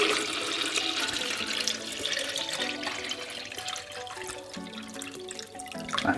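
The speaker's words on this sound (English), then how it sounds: "fill water tank to max level with potable water." Potable water runs steadily into the water tank of a Nespresso Creatista Plus, a continuous close splashing pour with a slight rising fill tone, no voices.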